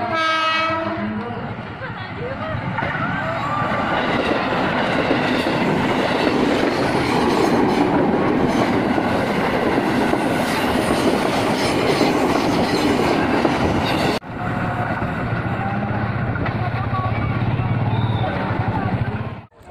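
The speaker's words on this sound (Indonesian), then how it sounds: "Kereta api Batubara kosongan melintas langsung jalur 1." An empty coal freight train rumbles past close by on an Indonesian railway line, a loud continuous roar with rattling wheels and a horn at the start, with voices faintly underneath.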